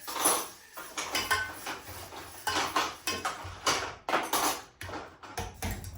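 A metal pot clatters and knocks as it is set on the stove for making tea, several close metallic clanks and scrapes in an uneven rhythm, with no talking.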